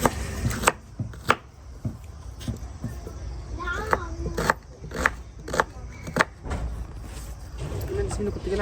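Onions are chopped on a board in a home kitchen: sharp, irregular knife knocks spaced about half a second apart, close and clear, with family members talking quietly in the background.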